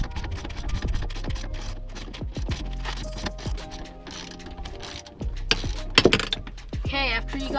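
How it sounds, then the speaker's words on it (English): A 14 millimeter socket wrench ratchets as seat belt bolts are unscrewed inside a salvage Honda Fit, giving close, steady clicking and grinding bursts, with some scraping and clunks mixed in. "you grab a 14 millimeter socket and you start unscrewing the bolts"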